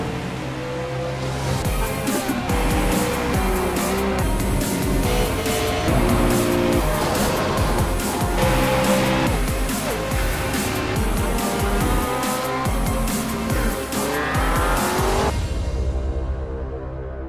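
Race cars roar steadily and loudly throughout in the iRacing sim racing game, engine tones rising and shifting as cars jostle for position during a VW Beetle and Ford Fiesta winter series race, with occasional tire squeal.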